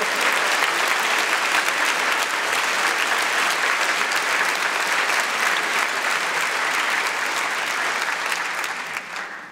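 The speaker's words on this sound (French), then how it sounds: "je voudrais qu'on vous applaudisse encore" A large audience applauds a Goncourt Prize winner at a public talk event, the dense sustained clapping filling the hall steadily before tapering slightly at the end.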